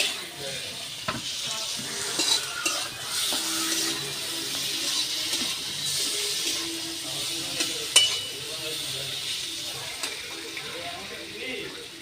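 Eggplant sizzles steadily in a hot pan with spices, the frying hiss continuous while a utensil stirs and scrapes with occasional knocks against the pan, up close.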